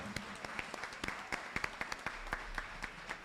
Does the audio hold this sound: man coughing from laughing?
no